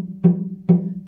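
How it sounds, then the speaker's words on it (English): A beginner's cello gives two short, dull thunking notes about half a second apart because the fingers do not press the strings down fully. Each note dies away quickly, and a voice begins just at the end. "if you get instead of kind of a thunk"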